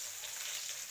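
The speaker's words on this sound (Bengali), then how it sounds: "কড়াইতে হচ্ছে মাছ ভাজা হচ্ছে।" Small fish coated in turmeric and salt frying in oil in a wok, a steady, dense sizzle with bright crackle throughout, fairly faint and close, with no voices.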